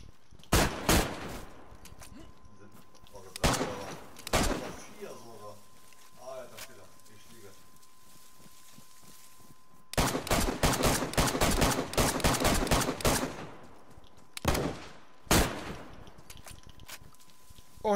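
Bursts of gunfire from an opposing player in DayZ, rapid clustered shots in several separate volleys with quiet gaps between, fairly close, while a player talks excitedly in German.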